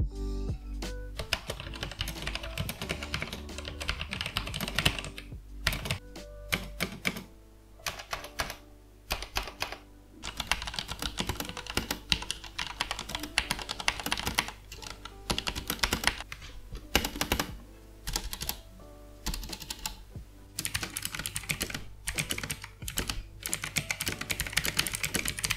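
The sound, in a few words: typing on budget mechanical keyboard switches, sound test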